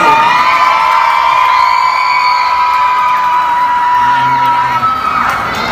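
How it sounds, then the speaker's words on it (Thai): A large crowd at a live singing and talk show screams and cheers loudly and without letup, high-pitched shrieks blending into one sustained roar. "ขอเสียงกรี๊ดกับน้องซาร่าครั้งด้วย"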